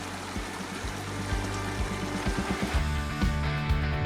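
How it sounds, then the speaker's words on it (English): A clear, cold brook bubbles and trickles steadily over stones, a close, continuous babble of running water with no voices. "so we're by a bubbling brook"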